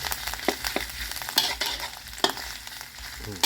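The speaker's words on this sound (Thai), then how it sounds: "แล้วก็ผัดให้มันเข้ากัน" Pork and curry paste are stir-fried in a pan, with a steady sizzle and repeated scraping, clacking strokes of a utensil against the pan, close up.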